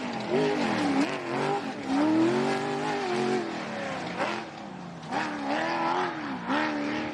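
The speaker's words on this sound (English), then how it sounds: "Gee, that Barnett car sounds strong." Off-road race buggy from the Barnett team, competing in the Big Desert 480 desert race, roars past with a strong, rising and falling engine whine that stays loud and close throughout.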